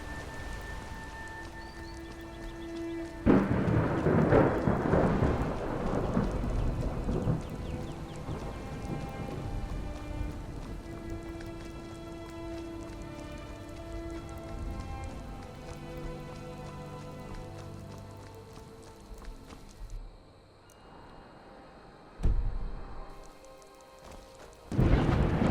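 Rain pattering steadily in Skyrim SE, modded survival mode, joined by loud rolling thunder rumbles and a later crack of thunder as the downpour continues.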